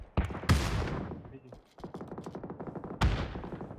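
Gunfire in the battle royale game PUBG: several sharp, loud shots and bursts of automatic fire, with a rapid run of rounds in the middle and another heavy shot near the end, alongside player voices.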